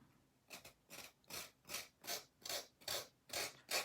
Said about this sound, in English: get all of those rough edges sanded off